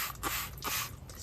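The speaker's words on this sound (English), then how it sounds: "Spraying a little bit all-purpose cleaner." All-purpose cleaner sprayed onto a dirty, dirt-caked seat in a few quick hissing bursts, close and fairly loud, with no talking.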